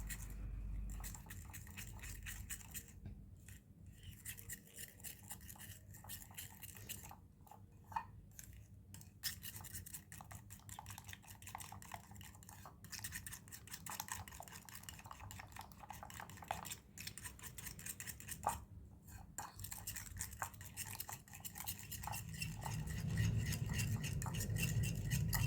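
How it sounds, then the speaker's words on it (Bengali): A spoon stirs wafer roll batter made with cornflour in a bowl, giving soft, quiet scraping and light clinks in an irregular rhythm, close by with no talking. "এখন একটা চামচ দিয়ে সবগুলো উপকরণ ভালোভাবে মিক্স করব।"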